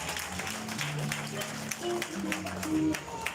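Applause from a wedding congregation greeting the pastor, steady diffuse clapping throughout with a voice speaking and some musical tones underneath.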